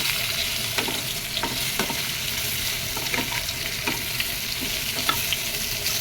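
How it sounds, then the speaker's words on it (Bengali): Katla fish pieces fry in hot oil with salt and turmeric, a steady close sizzle broken by regular scraping strokes of a spatula stirring the pan, with no talking. "একটু নাড়াচাড়া করে নামিয়ে নেব।"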